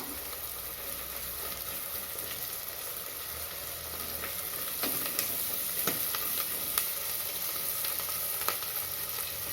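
Curry leaves sizzling in hot oil for a pepper and cumin kuzhambu give a loud, dense, continuous sizzle that swells slightly partway through, with scattered sharp crackles and pops.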